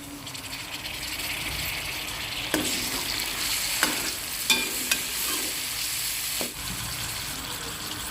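Steady sizzling of tomatoes, ginger, garlic and chillies frying in hot oil for ridge gourd curry, with a few sharp clicks and scrapes of stirring over the constant crackle.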